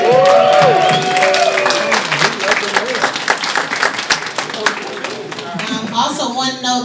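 A crowd claps steadily for a retiree at his retirement open house after 41 years of service, with dense sustained applause and a few cheers, loud and close throughout.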